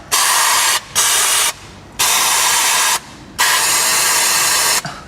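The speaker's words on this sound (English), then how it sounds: "If you have some brake clean, just go ahead and spray the" An aerosol can of brake cleaner sprays onto bolts in four loud, close bursts of hissing, each about a second long with short gaps between, during a VW Passat/Audi A4 CV axle replacement.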